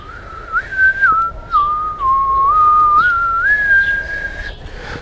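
A single thin, whistle-like overtone glides up and down in stepwise pitch changes over a low drone, close and sustained, with brief breaths between phrases.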